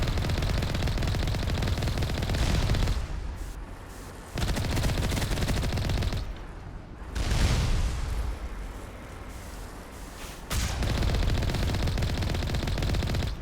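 Continuous loud gunfire and explosions in the sci-fi shooter Mass Effect 1, with rapid automatic bursts in long stretches broken by short lulls, close and dense with no talking.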